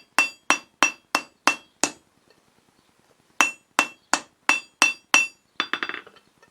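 Steel bar hammered on an anvil while forging a crossbow bolt: six sharp ringing blows in steady rhythm, a pause, then six more, ending in a quick flurry of lighter bouncing taps, close and loud with no talk.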